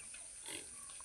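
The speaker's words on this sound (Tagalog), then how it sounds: "kay na may mga baboy" Pigs grunt faintly on a farm, a low, steady murmur of snorts with one slightly louder swell midway and no voices.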